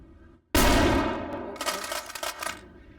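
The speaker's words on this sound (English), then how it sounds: "Oh, shotgun." A shotgun blast in the VRChat video game lands suddenly and loudly after a short quiet gap, then fades into a dense, rattling tail with several smaller bursts and clanks.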